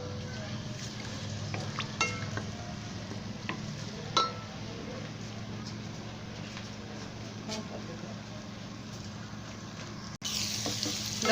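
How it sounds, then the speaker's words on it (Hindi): Garlic-ginger paste frying with onions in a pan, a steady low sizzle running throughout with occasional clinks and scrapes of stirring, a louder burst near the end. "उसी में अब मैं लहसुन अदरक डाल दूंगी, लहसुन अदरक का पेस्ट, और इसको मैं थोड़ा सा भून लूंगी"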